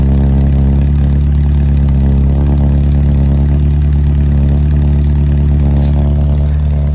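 Morris Minor car engine idling after six months in storage on fresh 95 octane fuel, a loud, steady, even low rumble running without a miss and close by.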